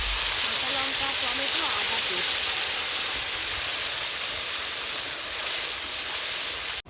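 Spice paste hitting hot mustard oil with bay leaf and cumin for a winter vegetable khichuri, giving a steady, loud broadband hiss of frying that runs throughout with little change.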